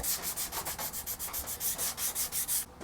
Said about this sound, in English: we'll start to sand this back of this headstock clean